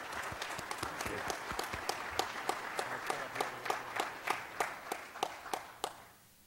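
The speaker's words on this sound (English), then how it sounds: "Maybe if you'll join me in a round of applause for the work that this team does." A city council meeting audience applauds the fire safety team, with distinct individual claps that start sparse, build into a steady round of moderate density, then fade out near the end.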